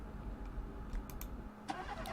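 A car engine starts in a video game, a brief, faint cranking turnover settling into a low idle rumble with a few light clicks, heard alone without talk.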